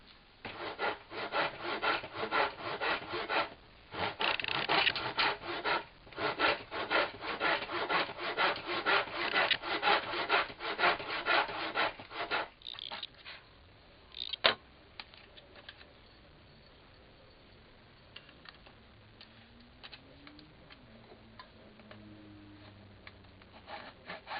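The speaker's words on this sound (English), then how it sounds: "this is what this baby's made for, a tenon saw. So we'll just go and cut the cheeks and everything." A tenon saw cuts tenon cheeks in wood with steady, rhythmic rasping strokes for about twelve seconds. The sawing pauses briefly once, then stops, and a quieter stretch follows with a single knock and faint birdsong in the background.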